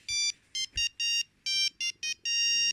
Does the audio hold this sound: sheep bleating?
no